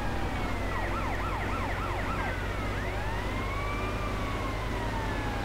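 A police siren in Grand Theft Auto: Vice City wails steadily through a two-star wanted-level chase, rising and falling in fast yelps before settling into slower sweeping tones over a constant low engine rumble, with no talk.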